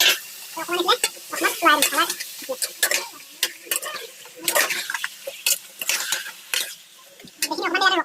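Chicken meat cooking in a pan outdoors while preparing a meal with friends, sizzling and frying with frequent scraping stirs of a utensil against the pan, close and fairly loud, with voices talking intermittently over it.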